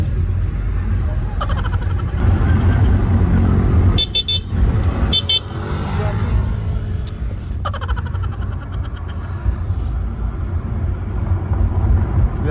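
Car horn honked as a prank on a wife from inside a moving car in traffic with passing motorcycles, several short toots and longer blasts standing out over steady engine and road noise, with people talking throughout.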